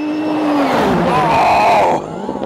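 Toyota rally car at the Dakar Rally roaring past at high speed close by, a loud engine sweep with falling pitch as it passes, then fading away.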